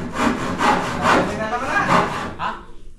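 A hand saw cutting through wood during house construction, with steady back-and-forth rasping strokes, roughly five or six close, loud pulses before it stops.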